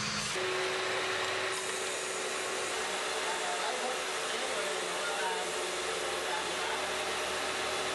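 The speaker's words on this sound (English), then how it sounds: "This piece is bored to fit the metal tube for the saddle." A piece of bamboo for a bamboo bike frame being bored to fit the metal saddle tube, a continuous high, hissing whir of a power tool held steady throughout at close range.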